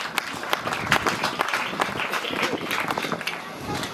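Dense, steady applause from an audience at a gospel album launch greets the singer, a continuous close wash of clapping with a voice talking over it.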